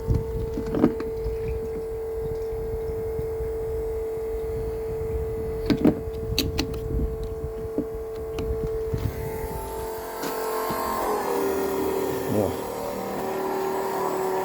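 A pump runs steadily as diesel is pumped into the fuel tank of a Lovol P4110 tractor, a continuous mechanical hum and whine close by with a few clicks and a shift in pitch near the end.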